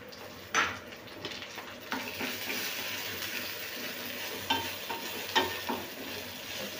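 Soft sizzling of soaked chana dal frying in oil, with occasional metal clinks of a spoon stirring against the pan.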